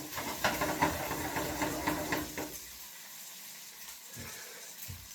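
Tortellini cooks in a pan, giving a busy hissing sizzle with scraping stirs at first that settles into a quieter, steady low simmer.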